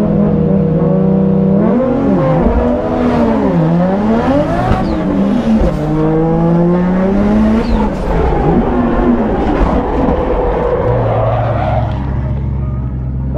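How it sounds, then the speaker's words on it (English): A BMW E36 drift car at a raw drift competition, its engine revving hard and loud with repeated rises and dips in pitch as the clutch is kicked, continuous and close throughout. "So you need a lot of clutch kicks."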